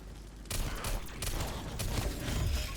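Heavy magnum pistol fire in a zombies video game runs as a dense, continuous barrage of loud shots from about half a second in, with impacts layered over a constant rumble and no voices.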